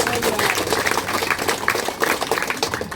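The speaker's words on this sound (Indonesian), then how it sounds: "Jadi tepuk tangan untuk beliau dulu." An audience applauds at a mosque groundbreaking ceremony, with a dense, steady wash of clapping from many hands that stays loud and fairly close for the whole stretch.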